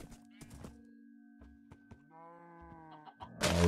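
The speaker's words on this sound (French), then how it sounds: "C'est quoi, c'est un mouton." A sheep in a survival video game bleating in a drawn-out wavering call, surrounded by soft game thumps and clicks, with a burst of louder noise at the end.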